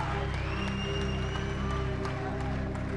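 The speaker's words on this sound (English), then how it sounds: "how about a nice round of applause for both of these warriors" Crowd at an amateur boxing event applauding and cheering both fighters after the bout, a steady dense wash of clapping from a sizeable audience with a loudspeaker voice over it.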